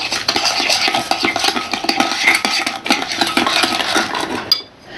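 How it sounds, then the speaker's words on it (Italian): A whole egg and sugar are beaten together in a bowl for shortcrust dough, making brisk, rhythmic scraping and clinking strokes of a utensil against the bowl, loud and close, ending in a short sharp knock. "Io metto un uovo intero, ci metto il nostro zucchero e incomincio a girare."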